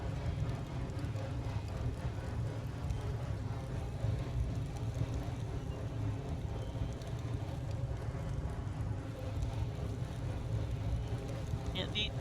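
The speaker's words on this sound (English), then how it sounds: "take in the awesome sounds of 3 engines storming up the grade" Three steam locomotives slog a train up a grade in the game Railroads Online, a dense, continuous low rumble and chuffing roar at steady loudness, with no clear pauses.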